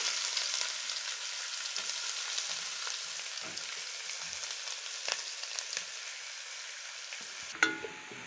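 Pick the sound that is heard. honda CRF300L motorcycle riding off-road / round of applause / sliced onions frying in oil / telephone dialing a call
sliced onions frying in oil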